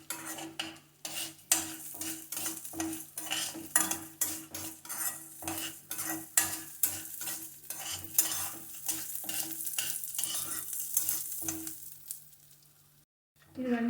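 Dal roasts in a pan with coriander seeds and garlic, giving a soft steady sizzle broken by repeated scraping strokes of a spoon stirring against the pan, then falling quiet near the end.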